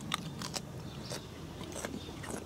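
Crisp crunch of a fresh garden snow pea bitten and chewed, a few sharp crackling bites in quick succession, close and fairly quiet, with no talking.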